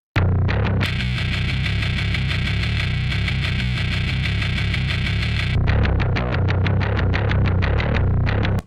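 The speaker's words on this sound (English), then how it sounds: "if I listen back to the original bass" A heavily distorted, gritty bass line plays loud and continuous, with a long sustained note in the middle and choppy repeated notes around it.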